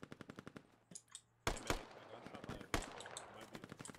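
Machine gun fire in the video game Squad: rapid rhythmic bursts of shots, some sharp and close, others fainter and distant, with loud single cracks mixed in.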